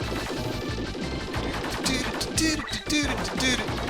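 Repeated hollow, clanky enemy-hit effects in SD Gundam 2 punch through a busy, noisy game soundtrack, several hits in quick succession.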